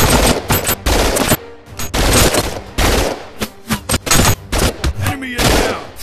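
Rapid shots from twin pistols in the VR shooter Operation Serpens, loud and close, fired in quick irregular bursts with brief pauses, mixed with game effects and a little voice chatter.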